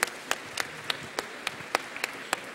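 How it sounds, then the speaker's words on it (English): At a business forum, applause for a panel comes through as sparse, distinct claps in a loose rhythm, close and moderately loud, suggesting only a few hands clapping. "let's give a round of applause to our panel,"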